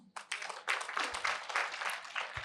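Audience applause at a Jain sermon by Muni Aditya Sagar Ji Maharaj: a crowd's broadband clapping swells in after a brief pause and holds steady and fairly loud for a couple of seconds, with no talk over it.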